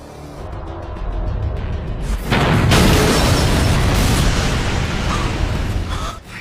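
A loud, broad rumbling blast of a car exploding swells and lingers, with roaring debris noise that slowly dies away.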